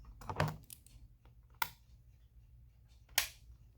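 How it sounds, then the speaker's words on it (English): Ratchet spring being taken off the front side of an anniversary clock, giving a few sharp, close metallic clicks and snaps spread across a quiet background. "now for the front side, we're going to remove the ratchet spring"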